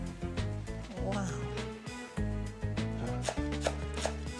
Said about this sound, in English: makes a salad by chopping coriander and mint, dicing red onions